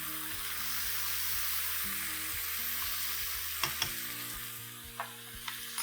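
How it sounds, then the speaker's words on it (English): Potatoes with turmeric powder stir-fry in a pan, giving a loud, steady sizzle with a few sharp scrapes and clinks of a utensil toward the end, under background music. "Let's stir fry this. We reduce the flame and add in turmeric powder."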